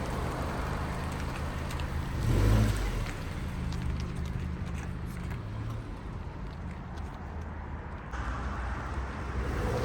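Inside a car driving along a road, a steady low rumble of tyres and engine holds throughout, with a brief louder thump partway through.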